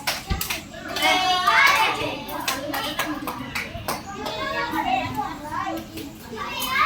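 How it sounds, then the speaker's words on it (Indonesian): Children in a third-grade classroom clap and chatter together, a lively continuous patter of small hands mixed with kids' voices throughout. "tepuk tangan untuk Afif."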